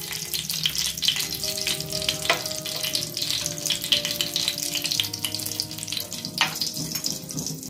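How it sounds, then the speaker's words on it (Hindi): Cumin seeds sizzle in hot ghee in a frying pan, a steady close crackling fry with occasional stirring scrapes, no talk. "इसमें घी डाल लिया है, पहले जीरा डालेंगे"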